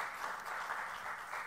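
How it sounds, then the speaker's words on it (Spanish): Faint, steady applause from an audience for Christopher Domínguez Michael at a Poder Judicial del Estado de México event, a soft continuous wash of distant clapping. "yo pediría otro aplauso para Christopher Domínguez Michael"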